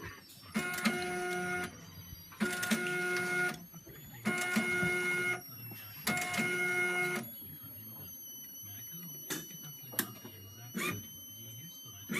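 A Zebra ZE500 label printer feeds out self-adhesive labels for SD cards in four distinct whirring bursts with tonal motor whine, followed by quieter clicks and faint background noise.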